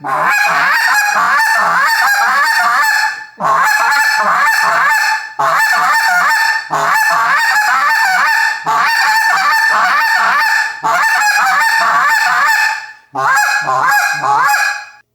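A goose call blown in repeated bursts of rapid honking, loud and close, separated by brief pauses, with no talking.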